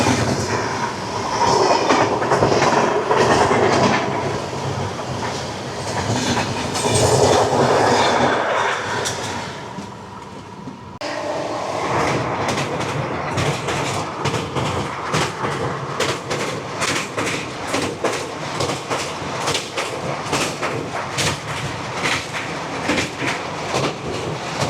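The Howrah-Puri Shatabdi Express runs steadily on its rails between Jajpur Keonjhar Road and Bhadrak, with a continuous loud rumble and rhythmic clickety-clack of wheels over rail joints, heard from inside the moving train.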